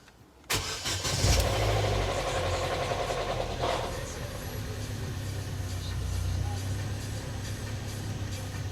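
Old car cranked and fired, a sudden catch followed by an uneven, rough-running idle suspected of rod knock, settling into a steady rumble at a moderate distance with no talking over it.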